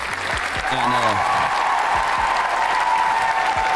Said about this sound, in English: Let me get a round of applause for that, please